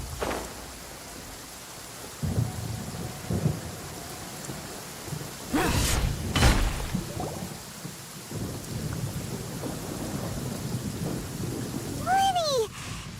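Thunderstorm with rain in Genshin Impact: steady rainfall with loud rolling thunder cracks in the middle, and a short bright whooshing effect near the end.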